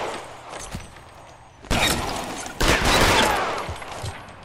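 Gunfire in the video game L.A. Noire: two loud, close bursts of shots with crackling, broadband blasts and ringing decay, rising abruptly over a steady noisy background.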